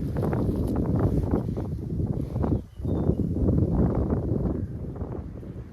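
Strong wind buffets the microphone at a fishing spot in a loud, continuous low roar, briefly dipping before gusting again.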